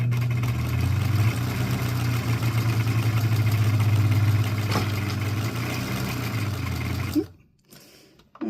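A sewing machine stitching a teabag bookmark gives a steady, close motor hum with faint rhythmic needle chatter for about seven seconds, then stops abruptly and leaves near silence.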